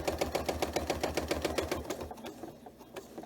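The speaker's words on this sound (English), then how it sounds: "I'm stitching on the bias" A Janome 9450 sewing machine stitches through a quilt, a quick regular run of needle beats that is close and clear, then stops and leaves faint room noise.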